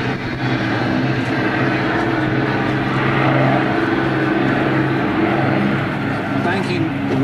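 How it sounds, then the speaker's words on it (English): An Avro Lancaster bomber makes a very slow, low pass with its wheels down at the Battle of Britain Memorial Flight, its propeller engines a loud, continuous drone that stays steady throughout. "So here comes the Lancaster back again with the wheels down, very, very slow."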